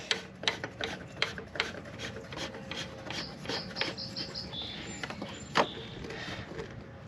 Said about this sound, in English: Put the oil filter back on in the reverse order you took it off.